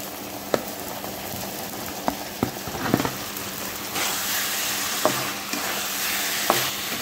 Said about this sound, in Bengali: দিয়ে সুন্দর করে মশলাটা কষাই নেব। এই দেখো মশলাটা সুন্দর করে কষানো হয়েছে, চারিদিকে দেখো তেল ছাড়তেছে